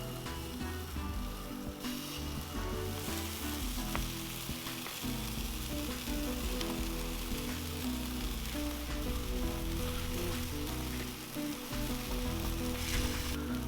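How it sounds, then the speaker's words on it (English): Buffalo style sausage balls sizzle steadily on a Weber kettle grill, a dense, continuous frying crackle with no talk over it. "Just gonna grill these things off for a little bit."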